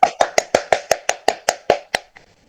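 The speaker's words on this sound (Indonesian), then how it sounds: "Tepuk tangan dulu untuk kita semua." Classroom clapping during a peer-teaching lesson: about eleven sharp, evenly spaced claps in a quick rhythm, close and clear, stopping abruptly with a faint tail.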